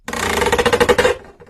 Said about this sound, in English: Creaking.